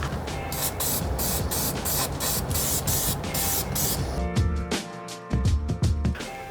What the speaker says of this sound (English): when you spray it, it primes it, and it also allows you to weld on top